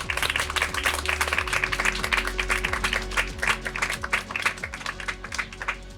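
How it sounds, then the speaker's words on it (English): Applause from a group congratulating contestants who made it to the next round of a competition show, dense steady clapping with a background music bed running underneath throughout. "You can give yourselves a round of applause"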